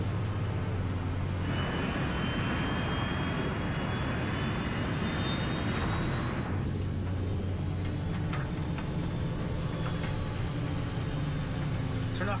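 West Caribbean Airways airliner jet engines roar as the plane climbs, a steady, broad rumble with a whining tone that runs unbroken at moderate level for the whole stretch.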